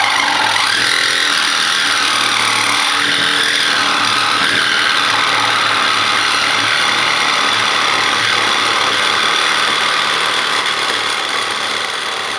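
A Fein ASAS 18 cordless reciprocating saw cuts through stainless steel pipe, giving a loud, steady buzzing drone that holds for the whole stretch with no pauses.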